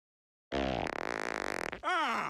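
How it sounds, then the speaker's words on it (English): A cartoon fart sound effect from Family Guy, a single long, loud, buzzing fart that stretches for over a second and ends in a rising, wavering tail, heard alone after silence. "Oh, did you hear that? He farted."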